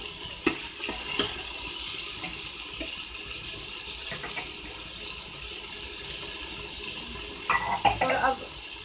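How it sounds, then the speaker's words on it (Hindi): Chopped bottle gourd is stirred in a frying pan, a steady scraping and rustling of spatula against metal under a continuous hiss, with a few louder clatters near the end. "जो हमने घिया काट करके रखी है ये डालते हैं और इसको भी अच्छे से घुमाते हैं ऐसे।"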